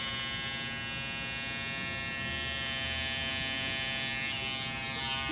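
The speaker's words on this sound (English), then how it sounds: "you just use the edge of the trimmer to come in and around to clean that up" An electric hair trimmer buzzes steadily at close range as it trims around a man's neckline during a haircut, a constant even drone with no talk.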